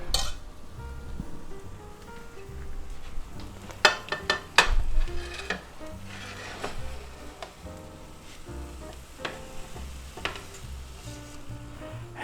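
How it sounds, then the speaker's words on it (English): Ham frying in a pan: a steady soft sizzle with scattered clinks and scrapes of utensils, including a cluster of sharp metallic taps partway through. "we'll fry up some ham there"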